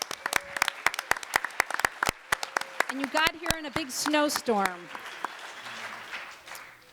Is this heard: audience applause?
yes